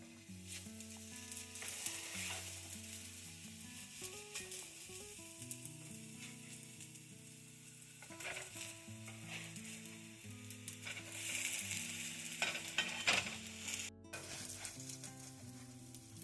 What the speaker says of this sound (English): Fry them in batches of about 4 patties depending on the size of your pan, using 2 to 3 tablespoons of oil in a skillet over medium heat.